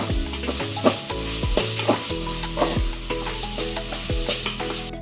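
Chicken for a chilli chicken curry fries in a pan with a continuous loud sizzle, while a spoon scrapes and knocks against the pan in repeated stirring strokes every half second or so.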